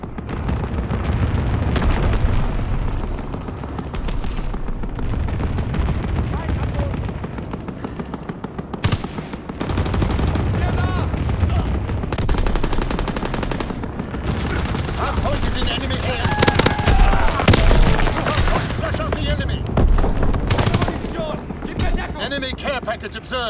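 Anti-aircraft flak guns and explosions in the Call of Duty WWII video game, Ardennes Forest setting: sustained loud, dense bursts of automatic fire and booming blasts throughout, with scattered voice callouts underneath.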